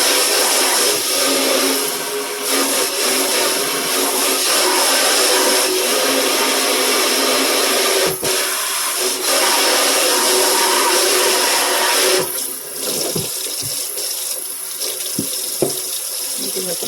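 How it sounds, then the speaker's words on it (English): Tap water runs hard into a sink while it is rinsed out, a loud, close, steady rush that lasts about sixteen seconds. The flow dips briefly at a few moments as the water is moved around. "Rinse the sink out."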